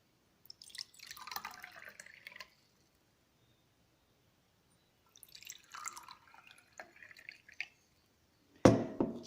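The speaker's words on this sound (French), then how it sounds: "Versez la même quantité d'eau dans chaque bocal." Cold water trickles from a container into small jars in two separate quiet pours, with soft dribbling and splashes, ending in a sharp clink of glass.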